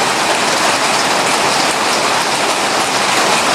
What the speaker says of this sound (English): Guess what? It's raining like I said.